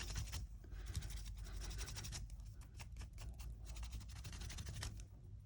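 Paper being crumpled by hand for a junk journal page, a continuous close crackling and rustling that runs steadily throughout with no talking.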